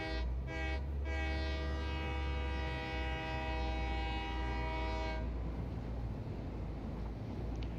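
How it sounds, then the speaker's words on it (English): A video game train sounds a long, loud, steady horn that holds for about five seconds and then cuts off, leaving a low rumbling engine drone running underneath throughout. "when you get into the train, you gotta honk the horn"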